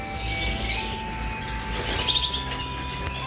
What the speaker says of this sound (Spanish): Y mira cómo están los pájaros,